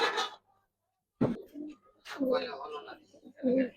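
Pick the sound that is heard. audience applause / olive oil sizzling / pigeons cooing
pigeons cooing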